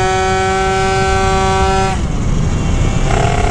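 A Phantom F12 70cc scooter engine held at high revs gives a steady, strong tonal whine for about two seconds, then drops away into rougher, noisier running. It sounds close and loud, with no talking.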